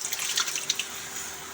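Canned diced tomatoes pour into a cooking pot for chili con carne, a brief wet, splashing rush of liquid and chunks that is close and fairly loud, with no speech.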